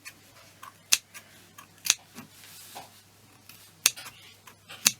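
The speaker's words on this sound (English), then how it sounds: "this is the chenilling part, you've got your scissors on the side" Scissors snipping through stacked fabric layers while chenilling in a sewing session, four crisp, sharp cuts spaced about a second apart with softer fabric rustles between, close and clear in a quiet room.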